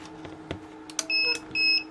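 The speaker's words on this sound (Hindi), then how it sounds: "अब जो अलार्म आ रही है इसका टेम्परेचर की वजह से आ रही है।" Incubator temperature controller sounding a low-temperature alarm: a few short electronic beeps followed by two sustained steady tones, loud and close in a quiet room, with no talking.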